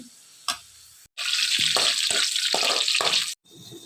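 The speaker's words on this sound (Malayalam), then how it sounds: "ഇനിയിപ്പോൾ ഇത് കോരിയിട്ട് അണ്ടിപ്പരിപ്പ് മുന്തിരിയും വറുക്കാൻ പോവാണേ" Cashews and raisins hit hot oil, left from frying onions for mutton dum biryani, in a loud sustained sizzle with a few sharp clinks of a spoon at the start and end.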